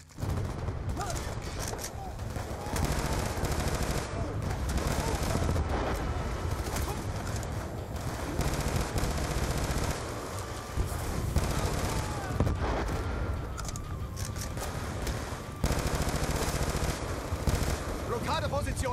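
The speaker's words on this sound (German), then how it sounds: "Wir werden von der Minigun stark beschossen" Minigun fire in the Black Ops II shooter, continuous dense rattling bursts with scattered gunshots and booms throughout, loud and close, with game voices over the barrage.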